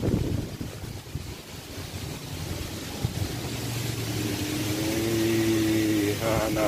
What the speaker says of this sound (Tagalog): Lakas ang hangin kasi o.